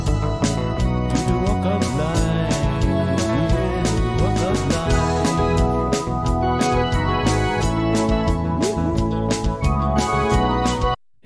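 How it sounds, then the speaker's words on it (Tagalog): A new acoustic guitar plays Dire Straits' Walk of Life, a bright rhythmic strummed and picked line heard loud and close throughout with no talking, stopping abruptly at the end. "dito yung ano, yung tunog ng gitara ni Master Chen"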